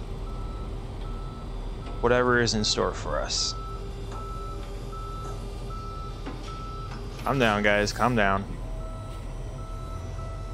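A tow truck's reversing beeper in the police video game Police Simulator, repeating steadily beneath game ambience while a player talks over it.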